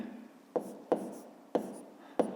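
Pen or chalk strokes while writing math notation for a 5th-grade exercise make a soft scratching rub with four sharp tapping onsets in a short, quiet, close-up sequence.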